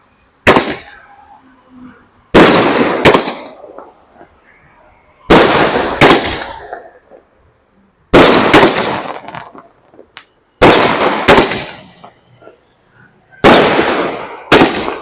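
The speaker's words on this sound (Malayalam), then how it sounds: "മുപ്പത് ഷോട്ടിന് തീ കൊടുത്തിട്ടുണ്ട്" A 30-shot spinning butterfly firework going off outdoors: loud, sharp bangs arrive in close pairs or triplets every couple of seconds, each followed by a brief crackling tail and quiet gaps between volleys.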